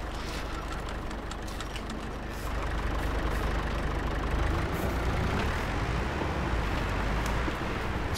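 A vintage tractor's engine runs steadily in an overgrown yard, a continuous loud low rumble with no breaks and no talking.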